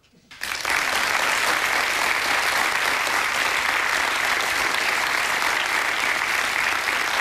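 Dense studio audience applause bursts in after a brief quiet moment and holds as a steady, loud wall of clapping to the end.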